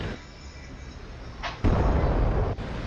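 Bomb detonation in the DCS flight simulator, a heavy booming explosion that bursts in abruptly and rumbles on loudly, preceded by a brief whoosh over a steady aircraft drone.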